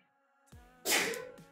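A single sharp sneeze bursts out close by in a quiet room during a Lords Mobile game session, a short intake followed by a loud, breathy explosion that fades quickly.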